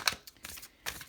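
A large tarot card deck being shuffled by hand, quiet crisp riffles and flicks of cards in short bursts with brief gaps, close and soft.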